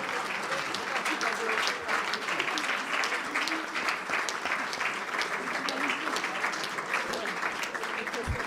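A standing audience at a physical education colloquium gives a sustained tribute ovation, a dense, continuous roar of clapping that stays loud and steady from start to finish.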